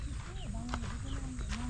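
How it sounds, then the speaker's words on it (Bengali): Assorted wild birds call in the Sundarbans forest at Kochikhali: thin whistles and short chirps overlap against a steady background hum, with several birds sounding at once from moderate distance. "গাইস শুনতে পাচ্ছেন অনেক ধরনের পাখির ডাক।"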